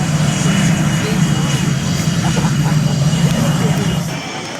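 Blue Angels jet aircraft powering up to fly out, a loud steady engine roar and whine that holds throughout and drops slightly near the end.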